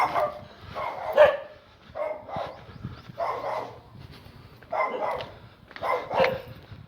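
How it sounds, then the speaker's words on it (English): Dogs bark in short, separate bursts of a few yips at a time, a moderate distance off on a Bangkok street, with quiet pauses in between. "Some dogs here."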